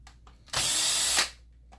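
A power drill removes screws from the metal shield of a Panasonic PT-LB20U LCD projector in a single short, close whirring burst, with quiet ticks before and after.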